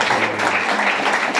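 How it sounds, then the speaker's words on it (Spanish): A congregation claps loudly and steadily during a church service, a brief dense wash of applause with faint voices mixed in. "Dale fuerte aplauso al Rey de Reyes y Señores"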